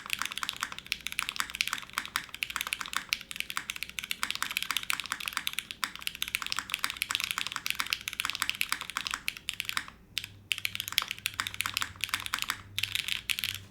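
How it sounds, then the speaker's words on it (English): Rapid, continuous typing on a Crush 65 mechanical keyboard, a dense and fairly loud stream of key clacks with only brief pauses and no voices. "what is the keyboard on top? This is called the Crush 65."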